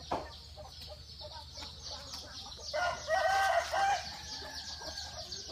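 Chickens cluck at a backyard chicken farm, faint and scattered, and then a rooster's crow rises clearly for about a second before the clucking settles again.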